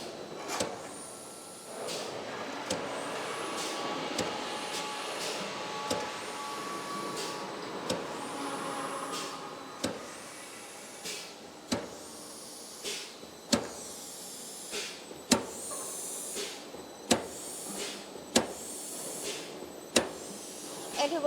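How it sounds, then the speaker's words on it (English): Decoiler with a disc brake unwinding a steel coil on a fence post making machine, a steady mechanical hiss and hum broken by repeated sharp hissing releases and clanks at irregular intervals. "For this decoiler, we have combined the disc brake. So once the coil is unwinding,"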